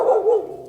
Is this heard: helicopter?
no